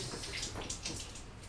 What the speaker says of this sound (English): I'm just gonna go rinse that off real quickly.